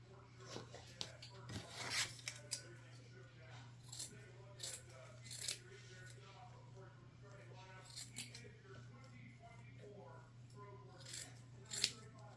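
Scissors cutting a piece of fabric for sewing, a few quiet snipping and rustling bursts spaced irregularly over a low steady hum, faint and close.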